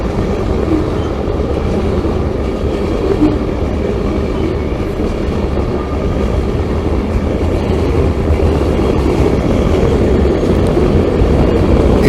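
A CSX freight train rolls past trackside in a small town, a loud continuous rumble of wheels and cars that holds steady for the whole stretch.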